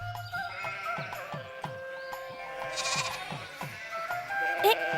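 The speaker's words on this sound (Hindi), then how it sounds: "उस तरफ से भेड़ों को हाँकना।" Sheep bleat in a farm field while hooves or footsteps thud in a steady rhythm, set under music with tonal strings and bright tones, and a voice speaks briefly in places.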